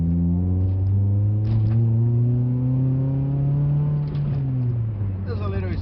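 A second-generation Mitsubishi Eclipse with a turbo idles high, near 2000 RPM, as a steady, loud, close engine drone holding a constant pitch throughout with only slight wavering.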